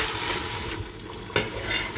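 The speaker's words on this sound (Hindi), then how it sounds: "ऑयल डाल के भून लेंगे हम इसको" Turnip and meat frying in oil for shaljam gosht, a dense hissing sizzle with a sharp scrape of stirring partway through, no voices.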